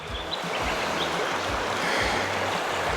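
River rushes steadily at a shallow water crossing near Pineapple Flat Campground in the Victorian High Country, a continuous close flowing wash with low gurgling pulses and no voices.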